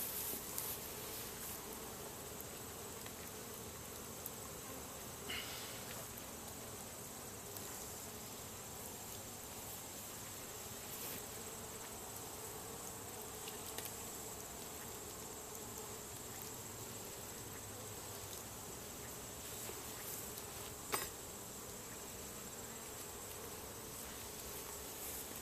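Honey bees hum around an opened hive during a honey harvest, making a faint, continuous buzzing drone with a few light clicks and no voices.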